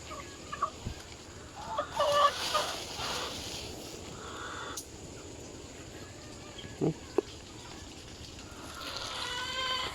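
Hen clucking on a farm bordered by fishponds, near where she lays her eggs, with a few soft, scattered clucks over a steady outdoor background hiss.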